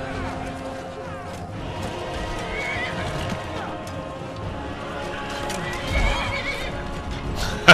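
A horse neighs loudly over galloping hooves and a busy Skyrim game soundscape, ending with a sharp crash.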